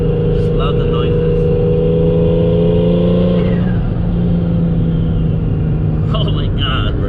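Nissan 350Z engine droning loudly in steady tones while driving, the pitch holding and then easing off, with interior road rumble underneath throughout.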